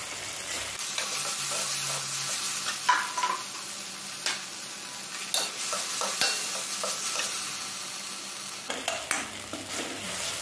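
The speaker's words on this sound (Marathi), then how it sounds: "कांदा टोमॅटो मस्त भाजून झालेलं आहे." Onion and tomato fry in a pan for an eggplant bharit and are stirred with a spatula, giving a steady close sizzle broken by repeated scraping strokes, with no speech.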